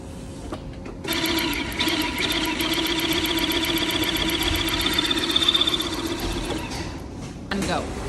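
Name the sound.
linking machine joining sweater collar to body panel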